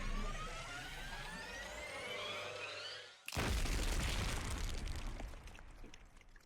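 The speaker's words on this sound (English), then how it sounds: "a vicious explosion echoed through the gym as the bomb inside Ado was detonated" In a video game, a bomb detonates inside a gym: a whirring tone builds, cuts out briefly, then gives way to a loud, broad explosion whose roar echoes and slowly fades.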